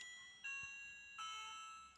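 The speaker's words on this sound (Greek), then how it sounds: "εδώ έχουμε και ένα υπέροχο κουδούνι" A Playmobil toy doorbell sounds two faint, thin electronic chime tones, each ringing out and decaying in a quiet room.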